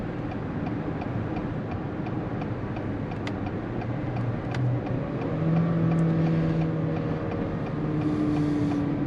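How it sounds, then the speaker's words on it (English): A turbocharged transverse four-cylinder car engine running steadily, a low, even hum with a slight rise in pitch partway through, close and continuous with faint ticking on top. "this 4-cylinder doesn't sound as exciting as some other engines I've driven before"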